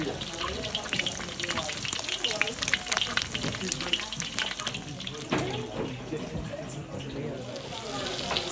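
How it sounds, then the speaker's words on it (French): Hot duck fat is poured off a frying pan after searing duck breast (magret de canard), a steady, close sizzle and liquid rush with splashy crackles. Someone talks over it. "je vais aller vider l'huile, parce qu'il y en a beaucoup."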